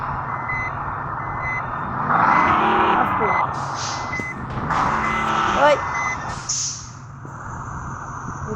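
A Hanif intercity bus on the Noakhali to Chattogram route reverses on a road. Repeated reversing beeps sound over a rumbling engine with brief air hisses, while someone talks nearby.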